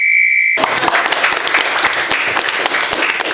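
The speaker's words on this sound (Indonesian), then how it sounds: "Tepuk tangan lah" Loud applause from a crowd erupts after a short tone and carries on as dense, steady clapping to the end, close and full.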